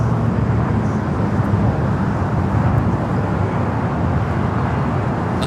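A Polar Air Cargo airplane at LAX airport produces a loud, steady jet roar that fills the whole stretch without a break.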